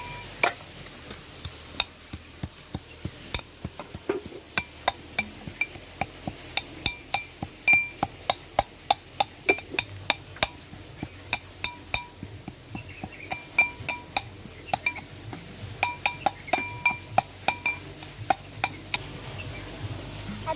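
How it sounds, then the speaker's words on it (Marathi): Garlic pounded in a mortar for a spicy raw-mango relish, a long run of sharp, regular knocks close up, alone, quickening into rapid bursts. "आता हे मी लसूण घेणार आहे आणि ह्याच्यात कुटणार आहे"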